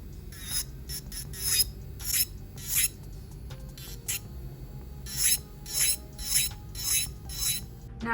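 An electric nail drill with a work-it bit files over a whole acrylic nail in short, repeated rasping passes above a faint steady motor hum, each stroke fading before the next.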